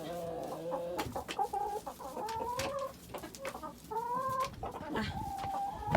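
Several chickens cluck and murmur close by in the snow on a cold day, in uneven bursts, with occasional louder squawks and some shuffling.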